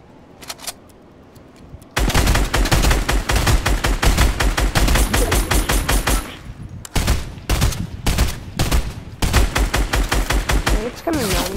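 Gunfire in the Fortnite video game: dense automatic bursts and rapid shots pour in loud and continuous after a quieter start, with one brief lull before the firing resumes.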